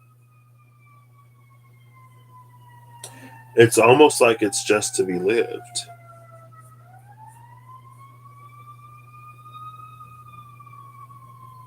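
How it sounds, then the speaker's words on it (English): Emergency vehicle sirens wail outdoors in the distance, a long sweeping tone that rises and falls steadily across the whole stretch, while someone speaks briefly over it near the middle. "You hear the sirens?"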